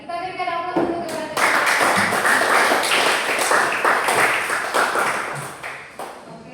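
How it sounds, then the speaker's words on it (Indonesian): A classroom breaks into applause, many hands clapping together in a dense, lively burst that lasts several seconds and fades out at the end. "kita berikan aplaus untuk kepada"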